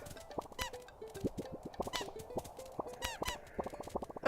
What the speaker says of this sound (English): there's a wave of penguins on their way out of the enclosure